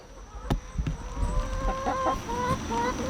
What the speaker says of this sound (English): Broody hen.